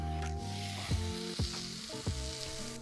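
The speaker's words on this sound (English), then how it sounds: "that's going to get a big old sizzle on the griddle" Tomahawk steak sizzles steadily on a hot griddle, a continuous crackling hiss with a few soft scraping thumps and a low hum underneath.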